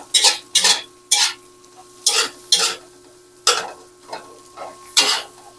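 Meat for adobo frying in a pan until crisp, heard as a run of sharp scraping stirs and clatters with a light sizzle beneath, close and fairly loud, with no voices.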